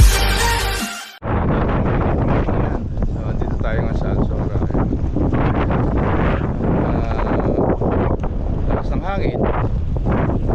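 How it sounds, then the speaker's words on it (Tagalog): Strong wind batters the microphone on a fishing outing off Dubai, a constant close roar and buffeting that runs throughout while people talk underneath. "hangin."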